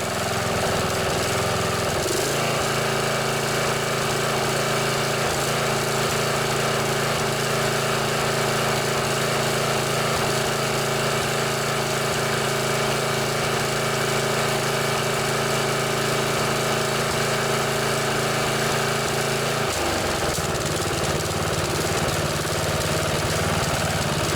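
A Briggs & Stratton lawnmower engine runs steadily at idle, its carburetor in need of work, with a loud continuous drone, a brief shift near the start and another near the end, and a slight sputter. No voices.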